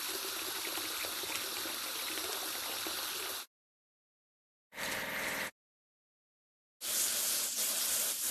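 Bursts of spraying water wash a crane in a kids' car wash video game, in a steady hissing stream that stops abruptly, returns briefly, then starts again.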